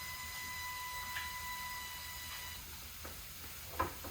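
Sloppy joe meat browning in a pan gives off a faint, steady sizzling hiss throughout, with a few light clicks and taps over it.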